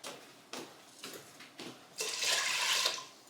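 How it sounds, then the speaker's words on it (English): Water pours into a cooking pot in a few short splashes, then a longer steady stream, fairly close and quiet with no one talking. "should we put a bit more, maybe a little bit more water"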